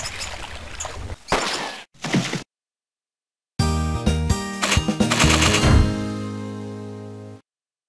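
Gunfire in a bear and moose hunting arcade video game, several sharp cracking bursts separated by silence, followed by a longer ringing booming report that decays over a few seconds.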